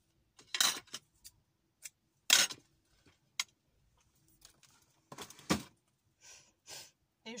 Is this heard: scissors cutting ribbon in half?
yes